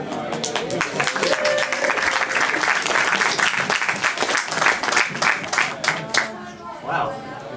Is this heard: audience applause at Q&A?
yes